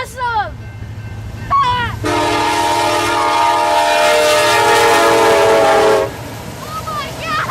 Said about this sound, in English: Train horn.